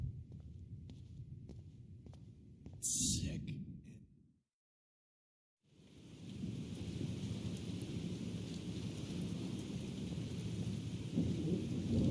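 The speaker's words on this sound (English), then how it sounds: "This storm is real." Thunder rumbles with steady rain in the video game Life Is Strange, a loud crack and roll followed by a moment of total silence before the downpour and low storm rumble return.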